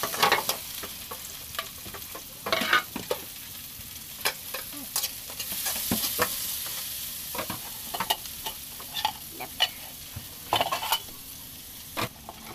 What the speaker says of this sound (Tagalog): Magigisa tayo ng sibuyas. Isunod natin ang ating kamatis.